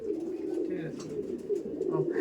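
Soft, low cooing from several Kaldom pigeons runs throughout, steady and close, with faint chirps and light background noise mixed in.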